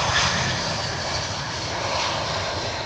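Twin engines of an F-22 fighter jet running with afterburner, a loud, steady broadband roar that holds unbroken and close throughout.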